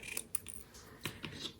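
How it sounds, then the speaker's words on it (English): A few crisp snips of scissors trimming the end of a paper greeting for a handmade card, quiet and close, with soft rustling between the cuts. "Let's go ahead and trim the end of the greeting just with our scissors."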